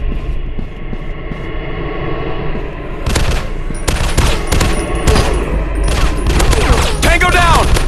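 Gunfire from the mobile shooter Zombies Fire Strike on an industrial war map: dense, loud automatic bursts and rapid volleys that start after a quieter opening and keep rolling, with game voice callouts mixed in.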